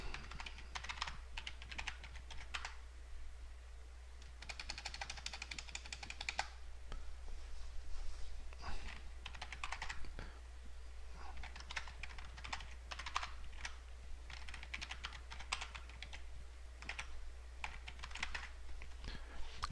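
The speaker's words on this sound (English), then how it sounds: "we'll go ahead and type that in" Keys clatter on a computer keyboard in uneven bursts while an email address is typed, with short pauses between runs, quiet and close over a constant low electrical hum.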